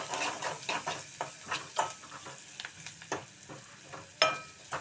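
Onion pieces frying in a pan for a cucumber-tomato curry, a soft continuous sizzle broken by repeated scraping stirs at an irregular rhythm, close and fairly quiet.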